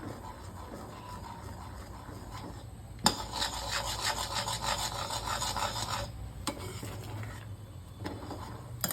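Sago halwa (javvarisi halwa) with ghee and cashews being stirred steadily in a pan, a continuous close scraping and rasping that swells louder in the middle stretch, with no talk.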